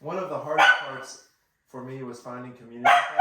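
A dog barks a few times in the background while a person keeps talking over it during a drug prevention presentation.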